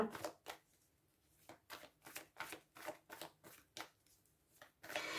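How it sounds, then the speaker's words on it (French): Tarot cards are shuffled and drawn by hand in a quiet room, giving a run of soft, rapid riffling and snapping bursts at a fairly steady rhythm, close and faint. "on va rajouter une ou deux cartes, les amis"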